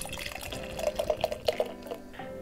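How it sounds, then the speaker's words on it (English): Tiny Rebel pina colada cocktail beer poured from a can into a glass, giving a gurgling, splashing stream with bubbly glugs that build in the middle and then taper off. "Let's give this a little pour out, see how it looks."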